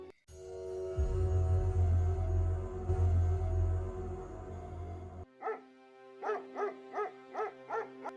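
A sick dog whimpers and yelps in short, repeated, high-pitched cries after a stretch of loud rumbling noise, close and fairly clear.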